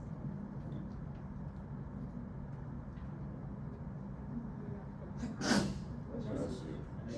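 A single short sneeze bursts out near the end, cutting above a low steady background hum of a room during a question-and-answer session.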